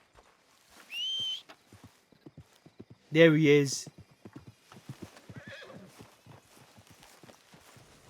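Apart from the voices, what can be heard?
horse neighing and hooves in Red Dead Redemption II video game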